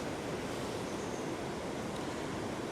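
River water pouring over a weir, a constant broadband rush with no breaks, moderately faint and uniform, no voices.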